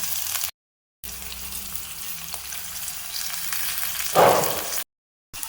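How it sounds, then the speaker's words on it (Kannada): Onion fries in hot oil in a village-style kitchen, a soft steady sizzle broken by brief silences, with a louder crackling burst just before the final pause. "ಎಣ್ಣೆ ಕಾದ್ಮೇಲೆ ಈರುಳ್ಳಿ ಹುರ್ಕೋಬೇಕು."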